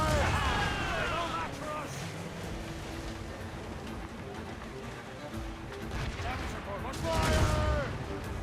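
Volley of cannon and gunfire in an Assassin's Creed naval battle, heavy booms at the start and a second loud burst near the end, with shouting voices over rumbling background noise.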